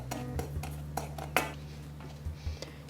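Sugar and flour being mixed in a bowl for lemon cream, giving scattered light clinks and scrapes of a utensil against the bowl over a steady low hum.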